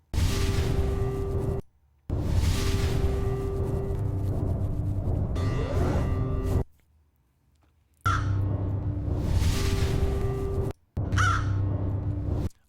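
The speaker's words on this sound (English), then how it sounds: "caw is like, sounds like a bird" Crow cawing in a film clip, several harsh caws heard amid loud continuous soundtrack noise that cuts out abruptly between shots, with sharp bursts near the end.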